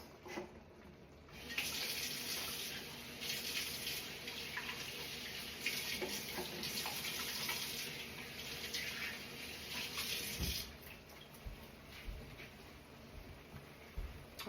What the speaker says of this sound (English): I'll wash the butter off my hands.